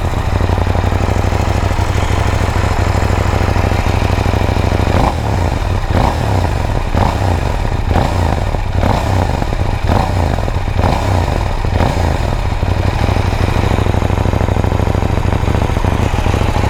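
A KTM Duke 790 motorcycle engine runs steadily throughout, a loud, close, continuous idle with a sharp change near the five-second mark as it catches and settles, mechanical clatter over a deep rumble and no talk.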